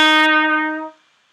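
A single sustained brass note rings out clearly and alone, held for under a second before cutting off.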